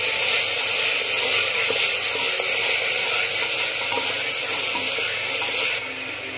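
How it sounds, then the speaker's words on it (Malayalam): Green peas and other masala rice ingredients sauté in a pan, a continuous loud sizzling hiss with faint stirring scrapes that drops slightly in level near the end, with no talking. "ഇതെല്ലാം ഒന്ന് വഴറ്റിയെടുക്കാം നമുക്ക്"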